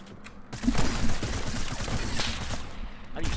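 Rapid SMG fire from a Fortnite match, a loud sustained volley of shots that runs almost the whole moment without speech.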